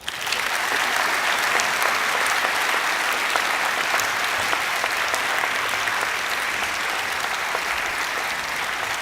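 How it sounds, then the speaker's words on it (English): Sustained applause from a school assembly crowd honouring a group of Year 11 boys at a college's end-of-year gathering, dense steady clapping filling the hall for the full stretch without letup. "Round of applause for these boys"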